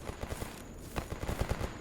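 Distant gunfire in the video game Escape From Pripyat, a rapid crackling burst of shots and scattered pops, faint and muffled beneath a steady background hiss.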